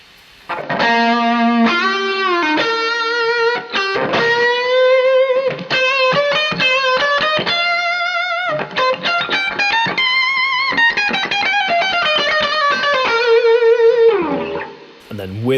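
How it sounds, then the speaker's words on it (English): Electric guitar playing the Bohemian Rhapsody solo with reverb added, a loud sustained lead of bending, gliding notes and vibrato that rings out alone and fades at the end. "So as soon as we add the reverb in, it sounds a little bit like this."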